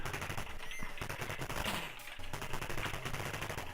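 Rapid gunfire from the Atari ST video game Commando: dense, continuous bursts of crackling electronic shots, steady and loud throughout, with no talking.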